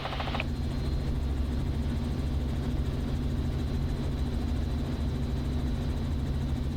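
A helicopter flying along the Santa Barbara shoreline drones steadily with a low, heavy rotor throb and engine whine, loud and continuous throughout.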